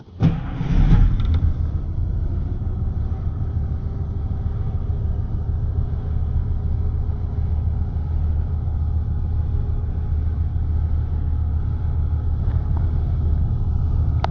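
A 1956 Studebaker Golden Hawk's stock engine cranks and catches with a burst at the start, then settles into a steady, deep running rumble with some wind noise.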